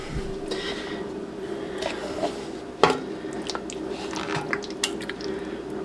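Chili is ladled from a pot with an improvised ladle, giving soft wet squishes, drips and scraping clinks, with one sharper knock near the middle, alone and close.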